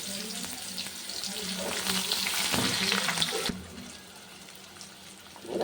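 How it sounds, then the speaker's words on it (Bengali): Pointed gourd sizzles and crackles in a hot pan with oil and nigella seeds, the frying hiss swelling for a few seconds and then dropping away to a quieter background. "পটলগুলো দিয়ে দিলাম, আগে একটু ভাজা করে নিই।"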